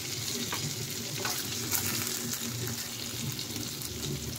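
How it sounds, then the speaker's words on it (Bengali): Pieces of snakehead fish fry in hot oil in a pan, giving a continuous, close, crackling sizzle with faint spatters and no talking over it. "এক সাইড কিন্তু ভালোভাবে ভাজা হয়ে গেছে মাছগুলো"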